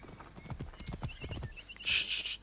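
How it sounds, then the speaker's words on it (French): Horse hooves and a neigh in Assassin's Creed Origins, a rapid run of clip-clopping hoofbeats followed by a short loud whinny near the end. "Mon cheval est là-bas."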